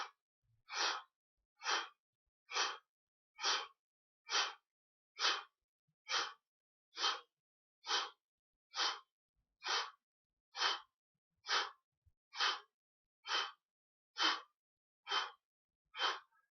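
Deep, rhythmic breathing during a heart exercise, with about nineteen evenly spaced breaths roughly every 0.9 seconds, close and clear against near silence.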